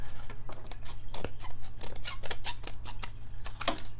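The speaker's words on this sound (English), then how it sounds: "I'm just gonna trim this off with my scissors, just this little extra" Scissors snip off the small overhanging edge of paper on a handmade envelope journal, a close series of quick crisp cuts and paper rustles in irregular rhythm.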